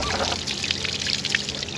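Rainwater pours and trickles out of a sailboat's furled sail at anchor after recent rain, a steady close splashing stream with small dribbling spatters throughout, no voices.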